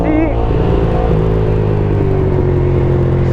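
Ducati Streetfighter 1098 S motorcycle with 160 hp, its engine droning steadily and loud while riding, with shifting whine overtones and constant wind rumble underneath.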